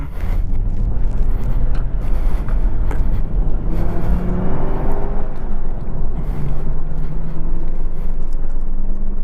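A 2018 Chevrolet Camaro ZL1 1LE pulls out onto the Hallett race track, its engine a steady, loud, close rumble with gear-driven drone rising and falling across the whole stretch.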